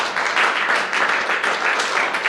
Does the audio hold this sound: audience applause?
yes